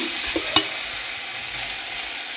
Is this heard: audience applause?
no